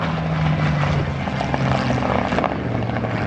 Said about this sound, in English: the Japanese Zero, not satisfied with the few strafes that he made on the airfield, decides to bring it back again